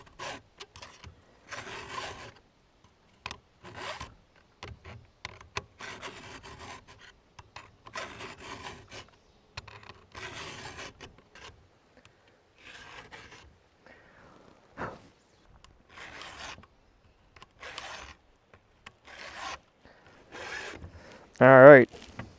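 A hand file sharpens a chainsaw chain in repeated rasping strokes, each a short scraping burst with brief pauses between them. The strokes are close and fairly quiet, with occasional speech in between.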